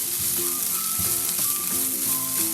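Minced beef, 200 grams, stirred into samosa masala frying in a pan: a loud, steady sizzle fills the whole stretch, with soft scraping stirs and a faint tonal hum beneath, and no voices.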